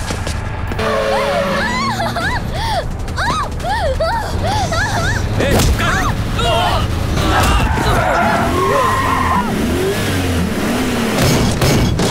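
A car engine revs hard and roars off amid a dense mix of shouting voices and dramatic noise.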